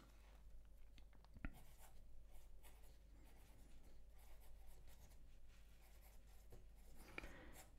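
Schneider Easy fountain pen writing on 70-gram Brunnen Student paper, a soft, steady scratching and gliding of the nib with faint strokes throughout, close and quiet with no talking.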